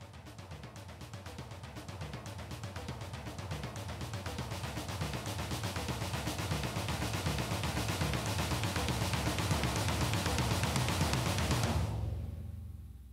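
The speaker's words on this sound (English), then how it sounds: "So the first thing I've got here are some drums from Easy Drummer" Sampled drums from EZdrummer software play a dense, steady pattern of rapid hits with cymbal wash. The kit builds gradually in loudness over several seconds and then stops sharply.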